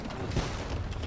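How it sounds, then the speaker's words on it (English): Bombard cannons firing in a real-time strategy game, a dense rumbling volley of overlapping booms that sounds continuous and loud for about a second. "But bombard cannons going off as well."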